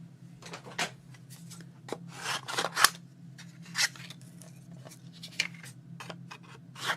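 Scissors snip through a mixed media artist trading card, cutting it into three pieces: a series of crisp, close cuts and paper rustles in irregular bursts over a faint steady hum.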